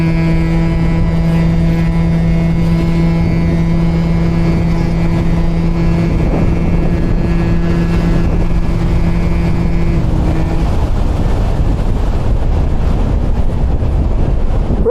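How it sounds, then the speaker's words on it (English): A Stage 6 Yamaha Jog CV50 50cc scooter drag races an eighth-mile street strip, its engine droning in steady high tones that climb and then give way to loud rushing wind noise as it speeds away. "Little CV50 Yamaha Jog, Stage 6 street race, draggy is set."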